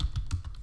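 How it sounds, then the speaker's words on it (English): Close, quick keystrokes on a computer keyboard while entering a note label, a short burst of about five or six distinct clicks in an irregular rhythm, with no voice. "I'm going to type here"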